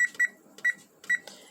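A kitchen oven gives short electronic beeps while being set to preheat: two quick chirps, then two single beeps about half a second apart, faint and alone in a quiet room.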